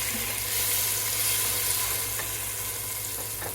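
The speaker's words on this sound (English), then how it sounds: "Get that garlic going. I love the smell of sauteed garlic." Garlic sautés in a hot pan for soup, giving a steady, close crackling sizzle with a few faint clicks and pops and no talking.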